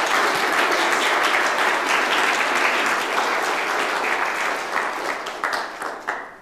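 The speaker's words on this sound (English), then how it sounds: "Round of applause, I think." Audience applause fills a hall at the close of the All Systems Go conference presentation days, a dense, steady wash of many hands clapping throughout that thins slightly toward the end.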